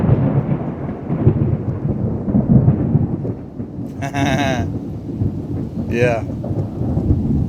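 A long rolling thunder rumble from a thunderstorm with rain, a loud, continuous low roar throughout, and two brief bleating animal calls partway through.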